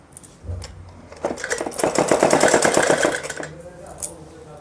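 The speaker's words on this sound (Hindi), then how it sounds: "यहाँ पर बड़ी सिलाई लगाएंगे" A sewing machine runs in a steady rapid burst, stitching a long seam along a folded curtain panel, with quieter handling noises before and after the run.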